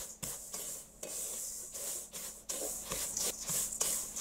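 Couscous grains are mixed with olive oil and salt by hand, making soft repeated rubbing and raking strokes in short bursts close to the microphone.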